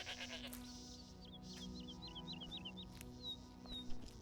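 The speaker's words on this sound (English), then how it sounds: "Hello, goat." A goat bleats in the Skyblivion video game, giving a run of short, quavering calls over steady ambient game hum, with faint bird-like chirps in the background.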